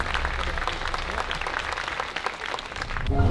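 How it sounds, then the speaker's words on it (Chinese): Warm applause from an audience at a bodybuilding competition event. It runs steadily and fairly loudly through the clip, dense and sustained, with a slight swell toward the end. "好，再次热烈掌声。"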